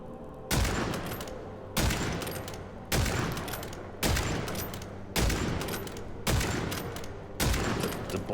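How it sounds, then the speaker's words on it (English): Bolt action rifle firing in the video game Witchfire, seven booming shots at a steady pace roughly a second apart, each with a long echoing decay and no talking. "The bolt action rifle."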